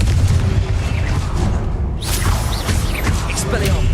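An explosive Confringo spell goes off in the Hogwarts Legacy video game as a loud, booming burst from the game's sound effects, about halfway through, over a dense bed of game noise.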